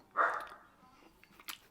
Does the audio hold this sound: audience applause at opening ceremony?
no